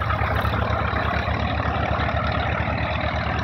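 A tractor engine, either an HMT 4511 or a Swaraj 735, runs steadily with a deep, even low thumping beat, close and constant throughout.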